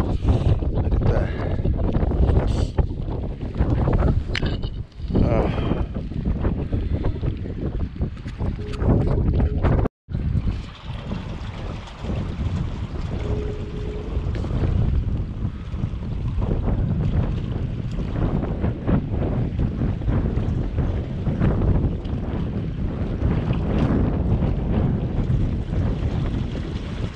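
Strong wind roars steadily across the microphone on a small boat off the coast near Bodega while fishing for monkey face eel and rockfish, heavy buffeting gusts with one sharp drop-out midway.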